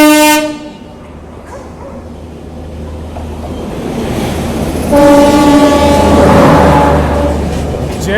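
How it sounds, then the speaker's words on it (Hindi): A train crossing on the adjacent track, hauled by a WAG 9 electric locomotive, sounds a loud horn blast at the start and again later, with a steady rolling rumble of wagons between the blasts. "यहाँ पर किसी ट्रेन के साथ क्रॉसिंग हो रही है, WAG 9 के साथ"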